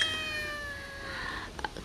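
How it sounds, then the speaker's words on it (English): A house cat meows in the background of a kitchen while Oreo pudding pie ingredients are set out, a drawn-out, fairly quiet tonal cry with a couple of short chirps near the end. "Excuse my cat in the background"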